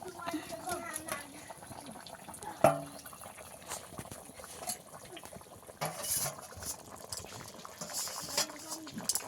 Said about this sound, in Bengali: ঝোল ভালো করে ফুটে গেছে